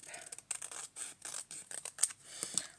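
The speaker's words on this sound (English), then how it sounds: "if I can find my scissors, is I will just chop this one up" Scissors snip through a sheet of paper with quick, close, crisp cuts in a steady run of short strokes and no talking.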